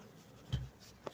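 A pen writing on a paper page for a maths exercise, faint and close, with a short scratchy stroke midway and a small tap near the end over quiet room noise, with no talking.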